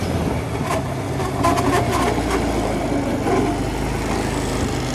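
An ATV engine revs and drives at close range with a steady, loud drone and rattling, its pitch shifting as it speeds up and then slows while braking.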